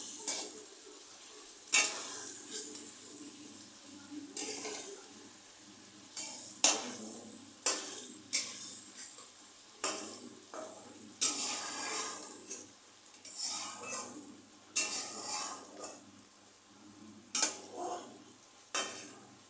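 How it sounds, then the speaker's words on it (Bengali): Potatoes sautéed in spice masala in a pan for egg curry, a spatula scraping and tossing in steady, repeated strokes over a soft sizzle, close and moderately quiet, with no voices. "আলুগুলোকে দিয়ে দিলাম আলুগুলো দিয়ে ভালো করে কষিয়ে নেব"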